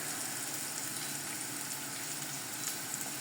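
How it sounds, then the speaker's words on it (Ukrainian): Steady, even sizzling of food frying in a pan, a continuous crackling hiss with no talking. "Так, тут поки смажиться."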